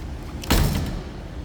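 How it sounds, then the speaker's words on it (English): A 1983 Oldsmobile Toronado Brougham door swings shut with a single solid, close thud, then settles into quiet background hum. "Door closes nicely."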